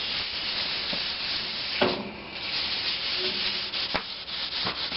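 Oil being rubbed by hand onto the metal of a wood cook stove to season it, like a cast iron skillet: a continuous close, soft scrubbing hiss with a few sharper scraping strokes.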